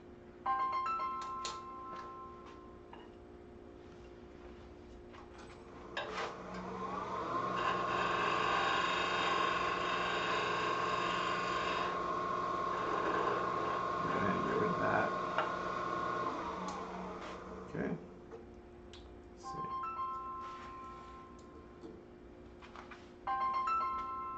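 A phone rings with an incoming call in a woodturning workshop with a lathe, a sustained electronic tone lasting several seconds, with shorter beeps and chirps before and after it. No one speaks.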